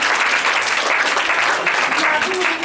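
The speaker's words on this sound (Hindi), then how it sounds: "और तालियां होनी चाहिए मैं इनके लिए" Loud, dense studio audience applause on an Eid day television show, continuous clapping filling the space, with a voice briefly heard over it.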